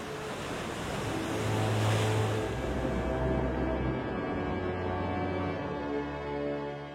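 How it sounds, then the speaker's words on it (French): Powerful ocean swell breaks on the west coast of South Africa, a continuous roaring wash of surf with low rumbling surges, heard alone, broad and steady with some wind noise. "La houle, qui vient se briser sur la côte ouest de l'Afrique du Sud"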